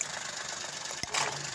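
A car engine with three ignition coils idles steadily at close range, a continuous even hum and rattle with one brief sharp knock partway through, and no voices.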